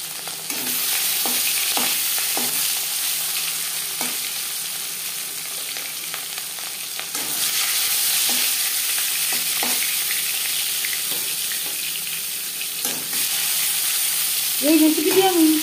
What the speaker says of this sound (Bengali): তেল ভালো করে গরম করে নেওয়ার পর দিয়ে দেবো মাছ।